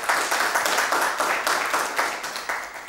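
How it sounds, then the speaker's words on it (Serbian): A studio audience applauding contestants on a quiz show, dense, steady clapping close by that holds at an even level throughout. "ajdemo aplauz za takmičarke"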